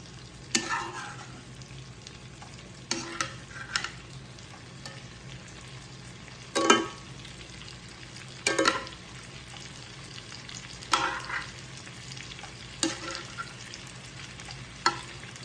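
Salmon and shrimp cooking together in a pan, a soft low sizzle under intermittent louder stirring and spatula scrapes spaced a few seconds apart, no talk.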